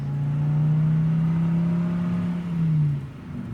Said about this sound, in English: Yo, that's a car.